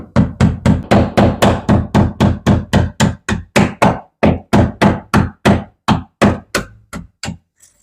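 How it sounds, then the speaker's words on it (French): A screwdriver is hammered into brick to start a pilot hole while fitting a single-flow ventilation system in an attic, giving about twenty steady, loud, evenly spaced knocks that slow slightly toward the end. "c'est parti, je fais mon premier petit pré-trou."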